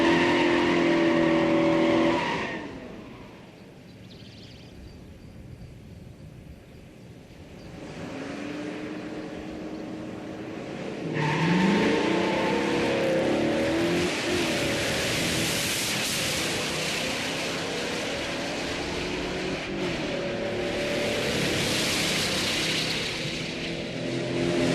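Multi-carb big block muscle car accelerating on a pass during a shootout: a loud engine roar fades, then builds again into a long, rising, hissy howl heard from a distance.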